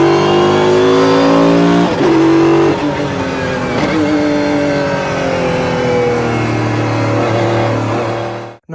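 Mercedes-Benz CLK GTR with a mid-mounted naturally aspirated 6.9-litre V12 and straight-cut racing gearbox, loud and close, revving hard through repeated upshifts with a whining gear tone before cutting off abruptly.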